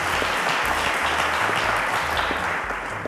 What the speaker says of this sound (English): Ladies and gentlemen, a round of applause for Nzubechukwu.